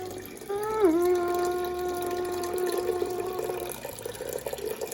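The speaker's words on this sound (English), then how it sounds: "We're adding the cold brew to the boil" Cold brew coffee poured into a rolling boil of stout wort during home brewing, a steady close liquid pour with a ringing tonal whine over continuous bubbling.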